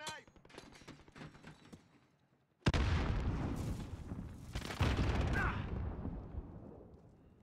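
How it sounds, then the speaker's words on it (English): A grenade goes off in Call of Duty: Modern Warfare after a stretch of scattered gunfire and voices. A sudden loud blast erupts, then a second heavy burst follows and slowly rolls off into a decaying rumble. "Throwing grenade."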